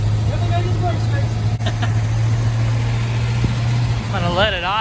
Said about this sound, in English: I'm gonna let it idle and get rid of all that old gas out of there.